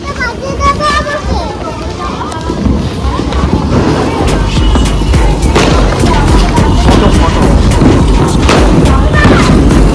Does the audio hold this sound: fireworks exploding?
yes